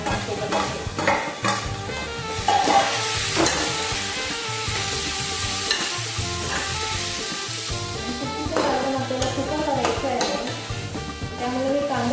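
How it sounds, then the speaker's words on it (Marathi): Onion and tomato sauté in a pan, with loud, close sizzling and frequent spatula scraping and clattering against the pan throughout. "कांदा थोडा परतल्यानंतर याच्यामध्ये मी टॅमॅटो टाकते"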